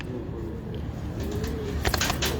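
Pigeons belonging to a Karachi pigeon fancier coo softly and steadily close by, with a few brief rustling bursts near the end and no talk.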